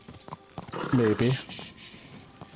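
A horse in Kingdom Come Deliverance 2 clip-clops along, with soft hoof beats and a brief whinny-like cry in the middle, under a man's speech.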